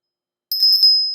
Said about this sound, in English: You will hear a bell shortly.